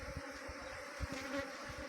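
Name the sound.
honeybee swarm buzzing while settling into a box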